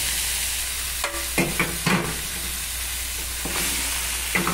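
Vegetables such as pumpkin, chayote, small potatoes and yam drop into seasonings sautéing in a pot, a few soft stirring clatters and a low frying sizzle over a steady background hiss, no talking.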